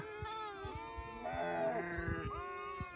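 Sheep bleat on a Rabari herders' outing in open country, with several wavering, nasal calls overlapping at close range, some higher and thinner like lambs, over a steady low background.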